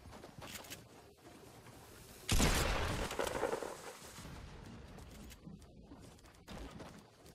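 Gunfire in the video game Fortnite: a sudden loud burst of rapid shots erupts midway, fading into scattered quieter noise, with a player shouting faintly around it.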